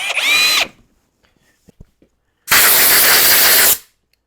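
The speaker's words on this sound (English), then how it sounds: "One thing about a Forstner bit, you gotta keep her cleaned out." A Forstner bit drills into wood in two loud, steady bursts: a short one at the start, then a longer run after a pause broken only by faint clicks and knocks.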